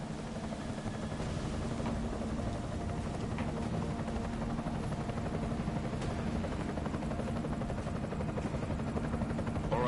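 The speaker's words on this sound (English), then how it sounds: "Enemy helo sighted." Enemy helicopter in the video game Deus Ex: a steady, loud rotor and engine drone that holds constant throughout, with no speech over it.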